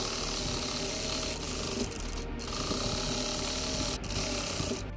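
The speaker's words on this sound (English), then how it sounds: "Stitch along these pinned sides." Sewing machine stitching along the pinned sides of a fabric square for a one-cut bag, a steady close mechanical whirring and ticking that runs continuously with only brief dips.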